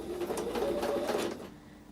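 A sewing machine runs briefly while stitching a quilted Christmas table runner, a close, rapid mechanical whir that stops after about a second and a half.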